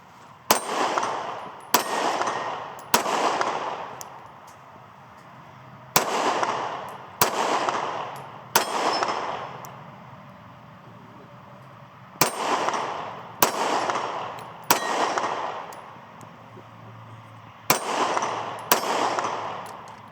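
Smith & Wesson CSX pistol fired at a range: about fourteen loud, sharp reports, spaced singly and in pairs, each ringing off briefly, with quiet gaps between.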